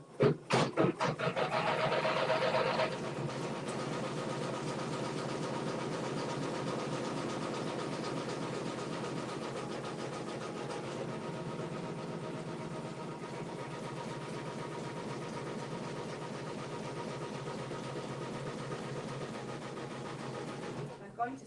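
Embroidery machine stitching down wool for a quilt block runs as a steady, rapid mechanical whir, louder and busier for the first few seconds, then settling into an even, continuous hum.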